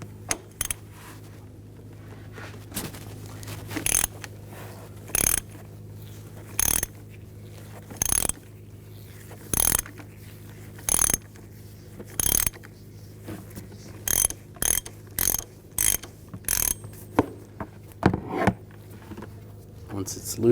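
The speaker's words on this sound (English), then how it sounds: "We're going to take the oil filter off, use a 36mm socket." A ratchet with a 36mm socket loosens the oil filter housing on a 2000-2006 BMW X5 3.0L inline-six, sharp separated clicks in an uneven rhythm, close by over a low hum.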